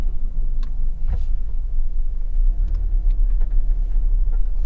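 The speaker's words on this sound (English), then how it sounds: "so we'll go over the speed bump here now" A car driving along a road in the St. Elizabeth area of Jamaica passes over a speed bump, heard as a steady low engine and road rumble from inside the car, with a brief thump near the start.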